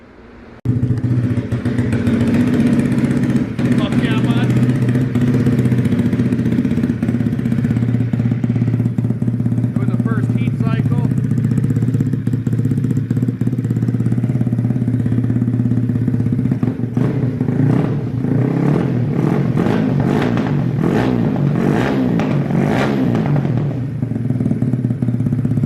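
A Honda Grom motorcycle with a Takegawa 5-speed engine runs loud and close, holding a steady idle drone before a burst of rapid revving and throttle blips late in the clip.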